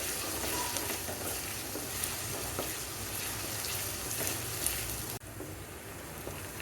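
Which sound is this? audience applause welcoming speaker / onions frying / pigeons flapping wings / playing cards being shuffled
onions frying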